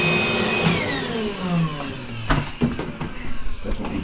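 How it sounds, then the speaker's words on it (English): A battery-powered hoover sucks at a blocked kitchen sink drain, giving a steady whining motor drone with a falling pitch. Near the end come gurgling, sputtering bursts as it pulls at the clogged plug hole. "I don't think this hoover is strong enough."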